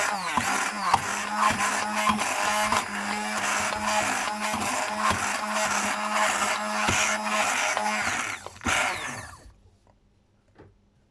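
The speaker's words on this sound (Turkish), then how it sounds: "blender kullanıyoruz. Çünkü ıspanakları püre yapmamız için blender daha uygun oluyor" A blender pureeing spinach whirs loudly and continuously with rattling, grinding texture, then winds down and stops near the end.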